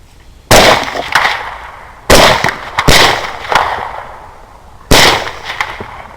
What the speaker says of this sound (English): We both shoot and both of our hogs run.